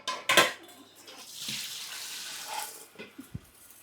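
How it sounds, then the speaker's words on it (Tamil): Rice for a mutton biryani is tipped into a strainer, giving a sharp clatter of grains against the metal followed by a softer wash of draining water and a few light knocks of kitchenware. "இப்போ இந்த மாதிரி ஒரு வடிகட்டியில் அரிசியை கொட்டிங்க. சுத்தமாக தண்ணி வடிஞ்சிடணும்."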